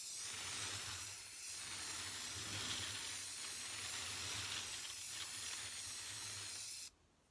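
Spray paint hisses in a long, steady burst as a thin coat goes onto a tumbler, with slight pulses in the spray before it cuts off abruptly near the end.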